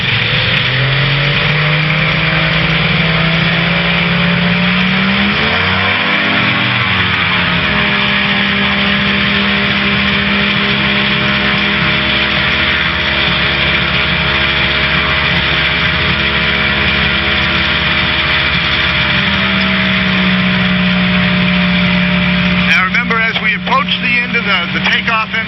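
A Challenger II light aircraft engine drones steadily and then rises in pitch as the throttle opens, with harmonic tones climbing and settling; a person talks over the engine noise.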